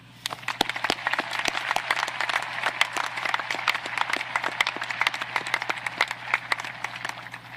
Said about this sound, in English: How about one more round of applause for them?